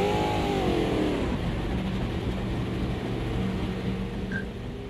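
Race cars in the rain in Automobilista 2 roar past with a loud, sustained engine drone that sweeps down in pitch as they pass, then settles into a steady rumble; no speech.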